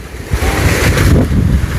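Strong wind buffets the microphone in heavy, rumbling gusts with a steady rushing hiss like rain beneath, loud and continuous throughout.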